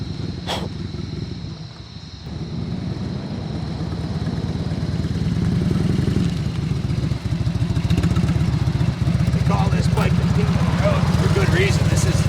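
A 1998 Harley-Davidson FLHTC with a stage 2 exhaust rumbles steadily while being ridden, its deep, continuous engine drone rising in loudness and holding strong throughout, with some wind and clatter.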